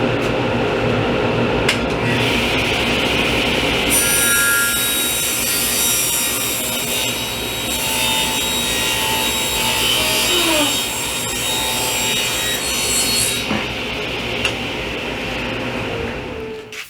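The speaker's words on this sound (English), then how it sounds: "So I'm going to take some plywood over to the table saw," Table saw ripping through a sheet of plywood, a loud, steady whining buzz of the blade in the wood lasting many seconds, with the motor tone shifting slightly as the cut progresses.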